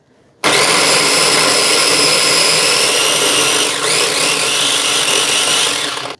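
A food processor whirs steadily as it grinds cubed pear and ginger for kimchi, a loud continuous motor drone running alone for several seconds before cutting off.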